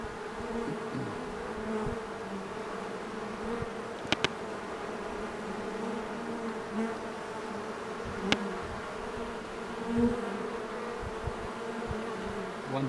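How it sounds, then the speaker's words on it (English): A honey bee swarm hums steadily at close range during capture, a dense continuous buzz with individual bees passing near, and nobody speaking. "Here we are standing right in the midst of bees flying around"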